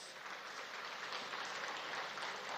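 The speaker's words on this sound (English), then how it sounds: "I think he deserves a round of applause." A faint, distant crowd claps in a steady, dense patter that continues evenly throughout, at a partnership launch event in Nigeria.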